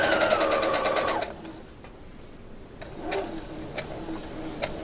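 A sewing machine back stitches the seam of a gown, a fast steady needle chatter for about a second, then stopping, followed by a few sharp clicks and light handling sounds.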